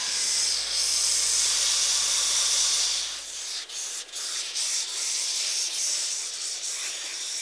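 Cedar strip kayak forms being sanded, a loud continuous rasping rub for a few seconds, then shorter broken strokes with brief pauses.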